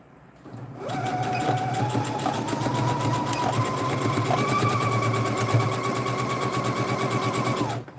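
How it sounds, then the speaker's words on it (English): A home sewing machine stitches down the side of a bandana bag, its motor humming in a steady, rapid needle rhythm close by, starting and stopping cleanly with no talking over it. "we're going to sew down the other side now"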